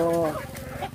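Chickens at a chicken farm give a short, close burst of clucking and calling, a quick run of vocal notes fading into faint background clucks within about a second.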